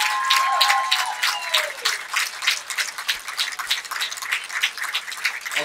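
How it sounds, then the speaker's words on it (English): A crowd at the 2018 PDL Championship soccer ceremony for Reading United applauds, producing a rapid, crackling patter of many clapping hands. A brief whistle-like tone sounds at the start, and the applause holds steady throughout. "One more round of applause for the host team"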